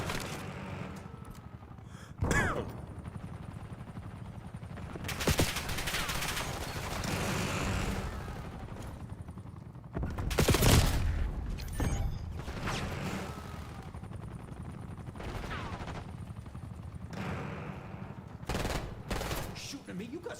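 Bursts of automatic gunfire crackle repeatedly in a video game, some sharp and close, others dull, over ongoing background noise with occasional voices and gasps.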